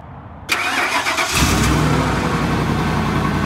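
A small engine on a pellet pickup machine cranks and catches after half a second, then settles into a loud, steady running drone close by, with no talk over it.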